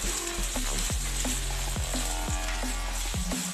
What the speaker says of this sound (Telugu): ఇప్పుడు వీటిని లో ఫ్లేమ్లో పెట్టుకొని తిప్పుకుంటూ మంచి వాసన వచ్చేంత వరకు వేయించుకోవాలి.